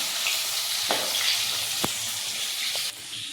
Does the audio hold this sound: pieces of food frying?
yes